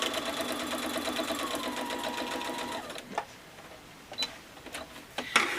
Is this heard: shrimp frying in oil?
no